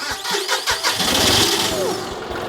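Tractor engine cranks with a quick run of rhythmic starter turns, then catches and settles into a loud, rough running rumble close by.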